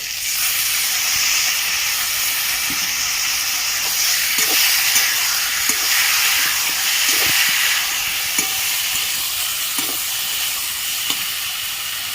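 Soaked ginger paste and cumin powder hit a hot pan, giving a steady, loud hissing sizzle with faint scattered spatters and small knocks throughout, and no talking.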